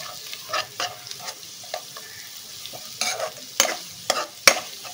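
Spice masala with ginger-garlic paste and Kashmiri chili powder being sautéed in a pan over low heat for butter chicken, soft sizzling under repeated spoon scrapes and stirring strokes, several sharp clinks near the end.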